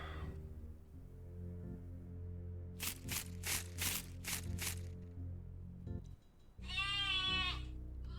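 Sheep bleating in a video game, several short bleats in a quick burst followed by a longer wavering bleat, fairly clear over a soft background tone.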